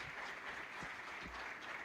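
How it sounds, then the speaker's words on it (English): Audience applause at the closing of an agricultural law conference, a steady, even wash of clapping from a moderately distant crowd with no talk over it. "let's give them a round of applause"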